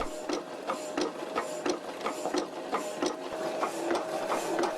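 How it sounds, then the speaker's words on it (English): A vintage hydraulic hacksaw saws through a metal workpiece clamped in a vise, its blade strokes giving a steady, repeating rasp about twice a second, close and continuous with no talk. "Looks like the blade is starting to cut into the pile of swarf."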